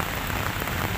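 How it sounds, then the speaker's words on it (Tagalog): Heavy rain pours steadily on a fishing trip, a dense, even wash of drops close by with no voices and no pauses. "Inabot kami ng malakas na ulan."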